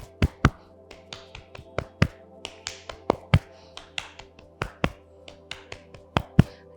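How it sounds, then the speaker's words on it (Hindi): Hands tap on the body during a yoga exercise, sharp, crisp slaps repeating in a quick, slightly uneven rhythm, close and clear, with no talk. "हम बोलते हैं टैपिंग अर्थात थपथपाना।"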